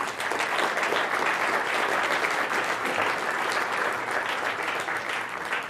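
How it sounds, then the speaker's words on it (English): A conference audience gives a speaker's colleague, Nathan, a round of applause: loud, thick, continuous clapping from many people, sustained at full strength across the whole stretch. "give him a round of applause."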